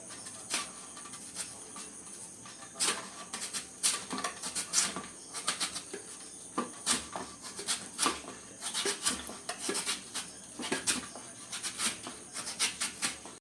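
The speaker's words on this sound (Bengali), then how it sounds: "গ্রেটারের সাহায্যে আলুগুলো আমি এবার স্লাইস করে কেটে নেব" Potatoes sliced on a grater for homemade chips, giving a steady run of quick, close scraping strokes in an irregular rhythm, with crisp rasps repeating throughout and no voices.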